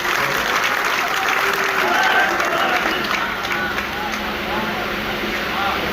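Crowd applause at a Hindi poetry gathering (kavi sammelan) in Ghaziabad: a broad, steady wash of clapping that stays loud throughout, with some crowd murmur and faint voices under it.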